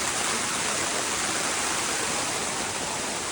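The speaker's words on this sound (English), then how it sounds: "Just raining." Steady, loud hiss of rain falling continuously on a tent at a Utah camp, a dense broadband wash with no voices or breaks.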